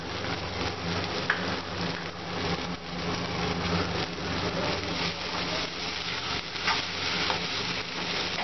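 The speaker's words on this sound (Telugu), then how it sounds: "బాగా ఉడికిన తర్వాత సన్నగా తరిగిన ఉల్లిపాయలను యాడ్ చేసుకోవాలి" Finely chopped onions frying in a hot pan for Andhra-style gongura pachadi give off a steady, dense sizzle with crackling spatter that stays even and close throughout, with no voices.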